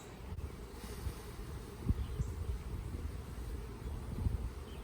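A honey bee swarm buzzes near a hive box as the bees are coaxed inside, a faint, continuous low drone of many wings with soft rustling and no talk.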